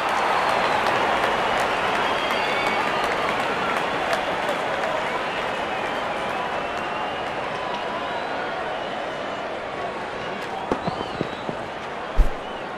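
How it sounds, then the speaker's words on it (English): Stadium crowd at a T20 World Cup cricket match between India and Afghanistan applauds a batsman reaching fifty, a dense sustained wash of clapping and cheering with commentary voices faintly over it. "Good innings and gets a grand applause."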